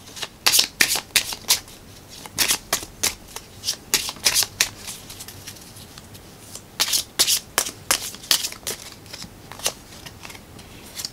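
Tarot cards are shuffled by hand in repeated quick riffling bursts, close and crisp, with short pauses between rounds.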